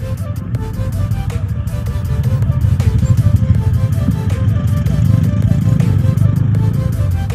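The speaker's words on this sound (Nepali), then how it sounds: "भर्खर क्लच फेरेर आएर होला है बाइक भुत्ताइरहेको छ कसम" Bajaj Pulsar NS200 motorcycle with a freshly replaced clutch, its engine idling and sputtering in a steady, loud low rumble throughout, close by, with no talk.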